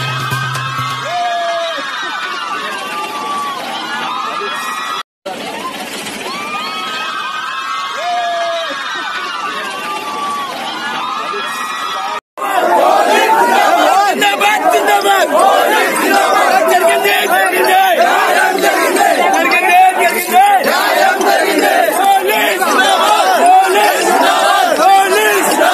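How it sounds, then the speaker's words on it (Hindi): A crowd of girls in Hyderabad shouts and cheers at police, a loud sustained mass of excited screaming and whooping, with a couple of abrupt cuts and the roar growing even denser in the final stretch. "लड़कियां खुशी से चिल्ला रही हैं और पुलिस को देखते हुए खुशी से और चिल्ला रही हैं"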